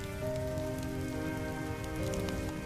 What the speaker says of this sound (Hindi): लखन का परिवार तेज बारिश में बीच सड़क पर भीग रहा था